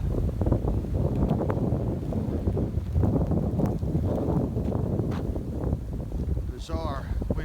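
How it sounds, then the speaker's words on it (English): Strong blizzard wind buffeting the microphone in a continuous low roar amid deep snow and downed branches, with a voice talking briefly near the end. "Bizarre wind pattern here."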